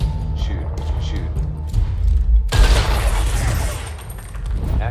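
Gunfire in the video game Gears Tactics: loud, dense bursts of shooting rumble and crackle, with a sudden heavier blast midway. Speech sounds also come through.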